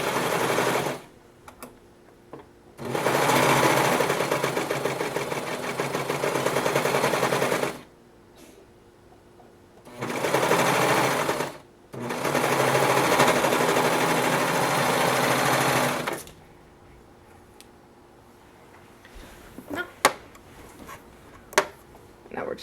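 A serger stitches child boxer briefs in three loud, steady bursts of rapid mechanical whirring, separated by short pauses, then falls quiet with a few faint clicks at the end.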